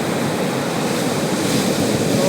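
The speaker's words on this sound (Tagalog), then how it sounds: "Magandang pakinggan yung malalakas yung alon" Strong sea waves crash at the shore in a constant, loud, full roar of surf, steady throughout with no voices.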